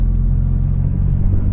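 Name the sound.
Mitsubishi Evo X engine revving hard during launch control run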